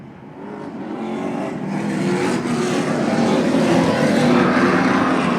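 Pro Stock race cars rumble past at Lee USA Speedway, a dense, steady roar of several engines building slightly in loudness, heard from the grandstand at moderate distance.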